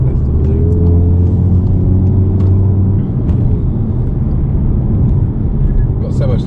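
An APR Stage 2 tuned MK7 Golf R drives along with a deep, steady engine drone and road rumble heard from inside the cabin, while people talk over it.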